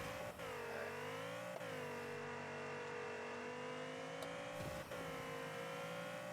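A race car engine droning steadily as it drives a warm-up lap at a racing academy, with the constant tone rising slightly and dipping briefly at gear shifts, heard from inside or close to the car with no talk.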